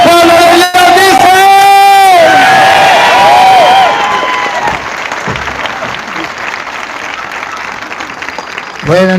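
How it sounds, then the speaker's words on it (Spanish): A church congregation breaks into loud, sustained applause mixed with shouts and cheers, starting after a burst of raised voices and continuing strongly before easing slightly toward the end. "Si usted quiere escuchar la palabra de Dios, expréselo con un fuerte aplauso, pero fuerte, fuerte."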